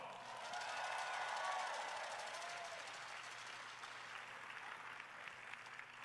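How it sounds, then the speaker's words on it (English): Audience applause fills a large keynote hall, a broad steady wash of clapping with crowd noise that swells early, then thins and lingers at a lower level. "Give yourselves a big round of applause"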